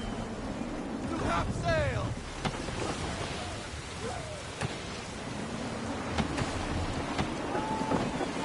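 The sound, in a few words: gusty wind at sea in video game Assassin's Creed III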